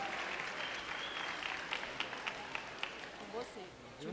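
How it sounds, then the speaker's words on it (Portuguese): Audience applause for a speaker at an entrepreneurship event, a steady, fairly soft wash of clapping that carries on throughout, with a few sharper claps standing out and a voice rising near the end. "palmas para ele"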